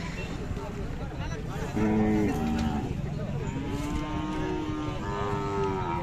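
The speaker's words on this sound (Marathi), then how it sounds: "मोठं माप दुधाची गाय" A Khillar cow at a cattle market in Sangola moos in long, low calls, with a few overlapping lows rising and falling over steady outdoor background noise.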